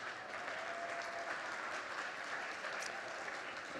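Applause from a church congregation during a Sunday service, a steady wash of clapping that holds evenly throughout at moderate loudness, with no voices rising above it.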